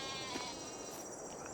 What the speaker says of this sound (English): The sheep agree, it sounds like.